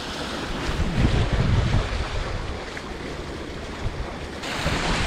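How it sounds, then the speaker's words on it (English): A Chris White Explorer 44 trimaran sails upwind off the California coast in about 8 knots of wind, a steady roar of wind buffeting the microphone over rushing waves and water along the hull, with a stronger surge early on. "I'm actually pretty glad it's only blowing about 8 knots."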